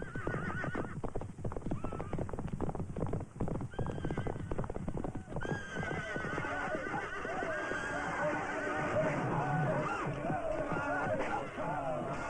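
Galloping hooves of charging Norman cavalry horses, rapid clip-clop beats giving way to loud neighing and whinnying, with a faint crowd murmur underneath.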